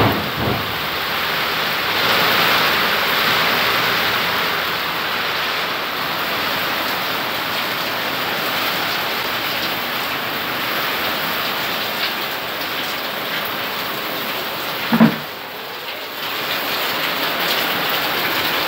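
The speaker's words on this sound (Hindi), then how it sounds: "और बहुत तेज बारिश हो रही है" Very heavy rain pours down steadily during a monsoon-season celebration in Bihar, a dense, continuous hiss that stays loud throughout, with one brief knock partway through.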